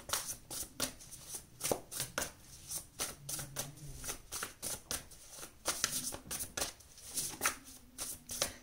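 Tarot cards are pulled from a deck and laid out, making a close, quiet series of quick papery flicks, slaps and rustles at an uneven pace, with no one talking.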